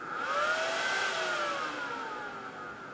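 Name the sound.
fan spinning up in a Supermicro Opteron server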